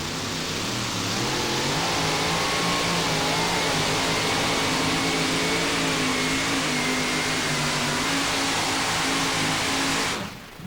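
A 2WD pulling truck roars at full throttle during an NTPA truck pull in Chapel Hill, Tennessee, a loud, steady, dense engine howl with wavering pitch that holds for about ten seconds before cutting off abruptly.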